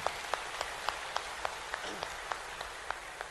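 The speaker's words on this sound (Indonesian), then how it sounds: "beri tepuk tangan untuk Master Sarno." Sparse, scattered hand claps from a small group, crisp and evenly spaced, with faint room noise between them and no one speaking.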